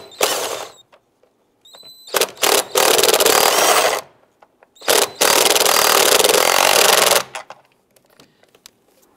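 Wrench and socket snugging down a bolt on a 2002-2008 Dodge RAM during A/C condenser cooling fan replacement, heard as loud, rapid ratcheting bursts separated by short pauses.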